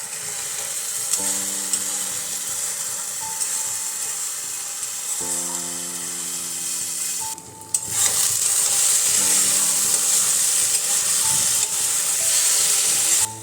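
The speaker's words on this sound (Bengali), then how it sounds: "কিছুক্ষণ ভেজে নিলাম।" Ground spice paste with poppy seeds and white sesame fries with mung beans in a pan, a continuous close sizzle and hiss that swells louder partway through as the mixture is stirred.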